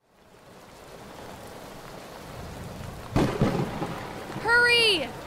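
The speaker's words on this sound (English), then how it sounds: "It's raining like crazy out here." Heavy rain pours steadily as a thunderstorm builds, then a sharp, loud thunderclap cracks close by, followed by a whistling, rising wind-like sweep near the end.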